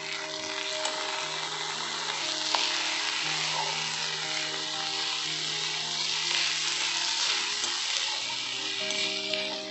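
Chicken and soy sauce sizzle steadily in a hot pan, a soft continuous frying hiss with occasional light scrapes and clinks of stirring, no voices.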